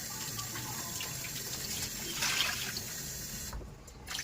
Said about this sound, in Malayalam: അതിന് മുന്നേ ഒന്ന് കഴുകി എടുക്കേണ്ടതായിട്ടുണ്ട്. നമുക്ക് ഒന്ന് കഴുകിയെടുക്കാം.